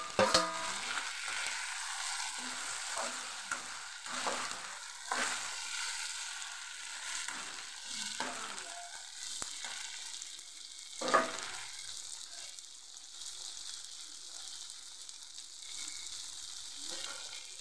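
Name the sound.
tomatoes sizzling as they fry in a pan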